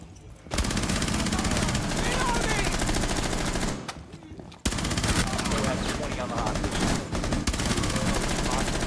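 Dense, continuous automatic gunfire from the Rainbow Six Siege video game fills the scene almost nonstop, loud and close, with a brief lull partway through and voices mixed in.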